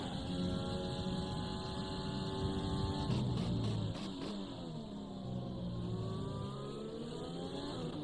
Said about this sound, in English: He's closing into the back of Power Sight here very quickly.